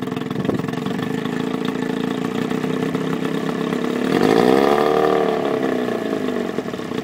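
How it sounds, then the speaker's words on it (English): An Evinrude 9.9 outboard engine idles low and steady, a continuous mid-pitched drone that swells briefly partway through, as if the throttle were nudged, then settles back to a smooth idle. "Idle's way down."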